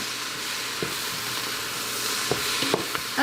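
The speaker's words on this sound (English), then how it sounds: "Now I'm putting 3 cloves of garlic in it right here, and let it cook about a minute with the onions" Garlic and onions frying in a pot for Brunswick stew give a steady close sizzle, with a few light stirring knocks toward the end and no talk.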